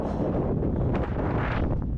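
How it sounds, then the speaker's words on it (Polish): Strong bora wind on Pag island, Croatia, roars as a heavy, continuous rumble buffeting the microphone, with gusts swelling and easing and no voices. "No, bura mocno wieje."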